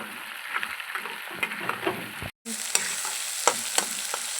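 Finely chopped onion sizzles in oil in a large kadhai with fried peanuts and dal for jowar-flour upma, a steady close sizzle broken by scraping stirs, with a brief drop to silence midway.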